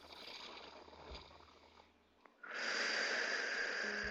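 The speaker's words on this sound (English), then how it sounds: "Now take a deep breath right here." One deep breath is drawn in close to the microphone, a soft airy rush that swells after a short quiet pause and holds steady to the end.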